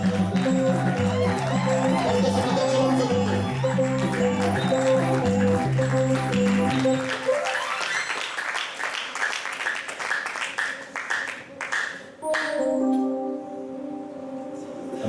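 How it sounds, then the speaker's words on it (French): A Sunday church congregation breaks into loud, sustained applause and cheering, following a stretch of steady keyboard or organ music, with a dense crowd roar filling the second half. "On acclame très fort le Seigneur."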